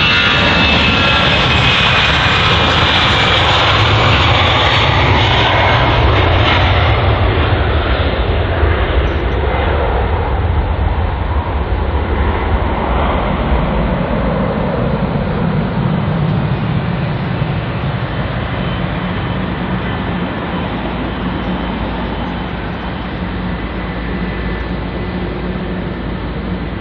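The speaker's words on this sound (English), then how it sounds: "that there is the ATR 72600 operated by Logan Air, which is heading to the Isle of Man" Loud, steady engine roar from a Loganair ATR 72-600 turboprop taxiing in a long departure queue at London Heathrow, filling the whole stretch with a continuous close drone that eases slightly toward the end.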